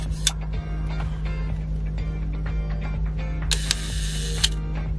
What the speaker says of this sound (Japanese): ガバナーはもうお馴染みの音ですかね